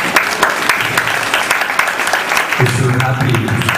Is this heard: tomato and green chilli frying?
no